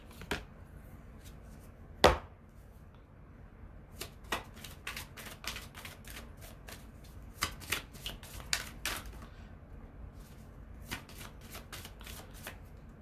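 Tarot cards are shuffled by hand in quick riffling bursts of sharp papery snaps, one louder slap early, then clustered runs of crisp flicks, close and otherwise quiet.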